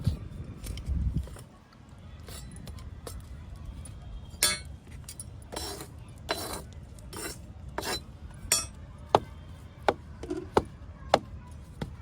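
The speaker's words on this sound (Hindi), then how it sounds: "इस तरह से हमें ठोक लेनी है ताकि नीचे तक ये अच्छी तरह से बैठ जाए।" Plant pots filled with soil being tapped to settle it, a series of sharp knocks and clinks, irregular at first and then quicker and crisper toward the end, close by, with brief talk at the start.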